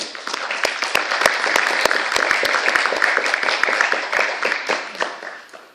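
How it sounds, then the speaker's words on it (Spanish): Auditorium audience applauding architect Andrés Peña Mateus at a lecture, many distinct sharp claps over a dense clapping bed, steady and close before tapering off at the end. "pido un aplauso para el arquitecto Andrés Peña Mateus"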